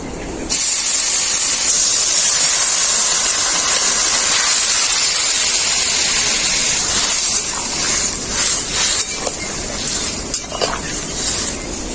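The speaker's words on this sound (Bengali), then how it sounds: "এখন আমি টমেটো বেগুন আলুর ঝোলটা আমি দিয়ে দেবো এর মধ্যে" Tomato, eggplant and potato gravy poured onto fried onions in a pan for khoira fish curry, a sudden loud sizzling hiss that rushes up and holds steady, with faint stirring clinks near the end.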